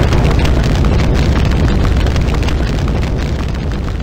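A fiery explosion in the Riddle School 4 game, a loud, dense roaring blast that stays at full strength for several seconds as a continuous rumbling burst, with no talking over it.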